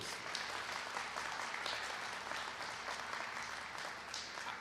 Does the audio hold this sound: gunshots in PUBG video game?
no